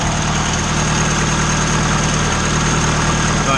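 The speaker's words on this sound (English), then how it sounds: "it does have a little bit of rattle to it in the cylinder head" A Honda Integra engine idles steadily and loudly at close range, a continuous low rumble that carries a slight rattle from the cylinder head throughout, with no voices.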